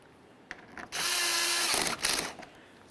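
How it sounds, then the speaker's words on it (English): A power tool whirs for about a second as a license plate bracket is tightened with a 10mm socket on a 2005-2010 Chevrolet Cobalt front bumper, framed by a few clicks and handling noises. "I'll tighten this up with my 10mm socket"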